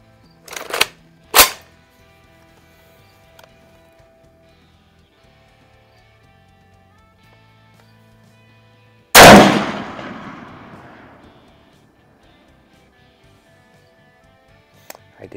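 An Izhmash Saiga 223 AK-type rifle fires at an outdoor range: two sharp nearby shots early, then a much louder blast with a long echoing tail after a quiet gap, with no talking.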